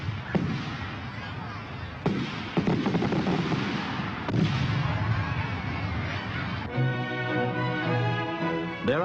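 A large fireworks display bursts over Sydney Harbour at night: repeated booming blasts with dense crackling between them, loud and layered, and a tonal ringing sound takes over toward the end.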